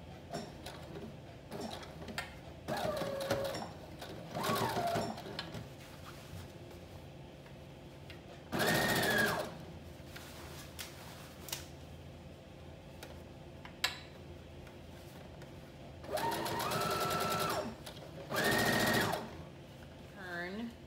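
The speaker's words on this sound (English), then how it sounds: "I'm just going to stitch along near this edge." A sewing machine understitches near the edge of a bias-tape facing on a Simplicity 8642 flutter top, running in several short bursts with a person talking in the pauses between them.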